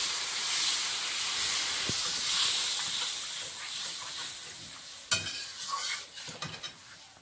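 Water poured into a hot cooking pan with chopped tomato, for a river fish curry, sends up a loud steamy hiss that gradually fades, followed by a few clattering knocks of utensils.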